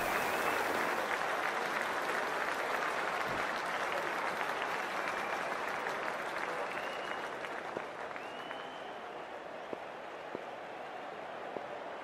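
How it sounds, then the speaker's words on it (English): A large crowd at a one-day international cricket match between Pakistan and Australia claps and cheers as play gets underway, a dense, continuous wash of applause heard from a distance, fading slightly over the span. "already the crowd is up and about"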